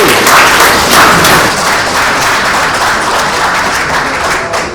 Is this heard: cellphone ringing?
no